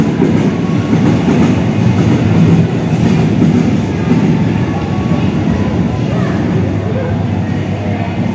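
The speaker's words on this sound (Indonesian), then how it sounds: "Kereta peti kemas ini melintas jam 11:15 di stasiun Kranji" A container freight train rolls steadily past Kranji station with a loud, constant roar and rumble, and wheels clatter over the rail joints. The sound stays close throughout, and speech is faintly mixed in.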